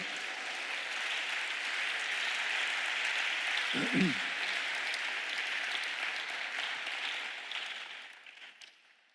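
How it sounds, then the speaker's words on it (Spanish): Church congregation applauds during a sermon, a broad sustained clapping that holds for about eight seconds before fading, with a brief voice rising in the middle. "¿Quiere darle un aplauso al Señor esta hora?"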